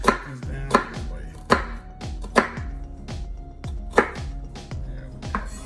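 A knife chops onion on a board for pico de gallo, with about eight crisp, evenly spaced chops up close and no talking.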